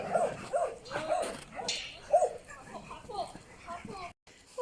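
Several dogs out for a walk give short whimpers and yips, mixed with people talking nearby.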